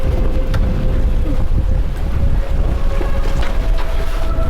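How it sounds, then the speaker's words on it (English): Strong wind roars over open water, buffeting the microphone with a constant loud rush and occasional creaks and knocks from a boat. "It's starting to look a bit stormy out here. Windy."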